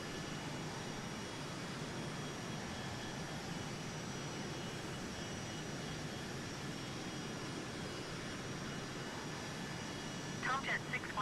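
Steady, dense cabin roar inside an Embraer Phenom 100 light business jet descending through clouds, holding an even level throughout, with a brief faint voice-like sound near the end.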